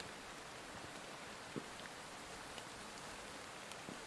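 Steady rain falls across a park in a broadband hiss with a few louder drops, continuous and even, no voices.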